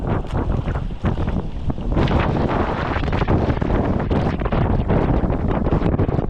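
Strong gusts of Typhoon Marce buffeting the microphone on the coast of Santa Ana, Cagayan Valley, a loud, continuous roaring rush that swells and pulses without letup.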